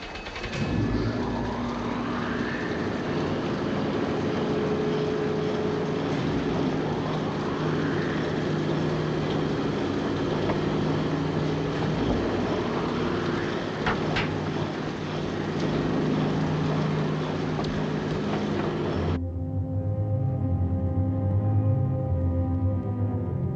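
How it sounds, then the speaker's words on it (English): The submarine Nautilus's engines start and run with a loud, steady mechanical drone and repeated rising whines, continuous for about twenty seconds before cutting abruptly to a quieter hum. "Start engines."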